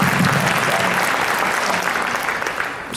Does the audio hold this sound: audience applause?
yes